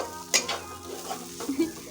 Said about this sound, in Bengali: এখন এখানে মাছের তেল ভাজা হচ্ছে